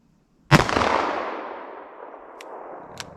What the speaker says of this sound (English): So let's see how our 10 millimeter does at 75 yards.